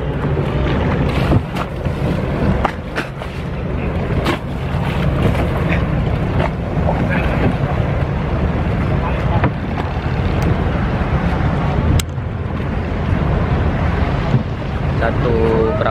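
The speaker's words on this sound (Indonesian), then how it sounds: "Beginilah naik gondola." A gondola ride on the water in Venice, with a constant wash of wind and waves against the boat and sporadic knocks and bumps, while voices talk over the steady noise.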